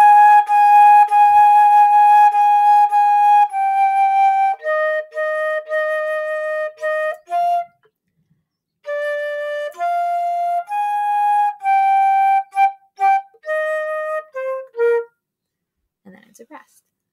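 A single band instrument plays the second line of "La Bamba" slowly, a run of clear sustained notes in phrases with a pause near the middle, alone and close with no talking.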